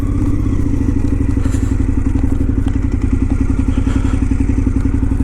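A KTM 990 Adventure motorcycle ridden off-road across autumn fields and forest tracks, its engine a loud, steady, close thumping rumble with clattering and crackling throughout.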